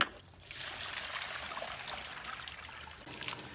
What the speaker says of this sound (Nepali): यो चाहिँ हिजो हामीले नुनमा भिजाएर राखेको फेचु अब निकाल्ने